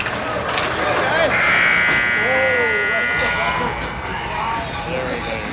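An end-of-period buzzer sounds at a bantam ice hockey game, a loud, sustained harsh tone lasting a couple of seconds in a noisy arena, with crowd noise and people talking throughout.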